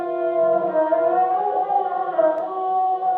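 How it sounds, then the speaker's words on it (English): A sustained, smeared synth tone from a drill beat in Logic Pro, with reverb added and washed-out reverb tails, rings steadily, pitch wobbling slightly, loud and alone. "Add a reverb to it."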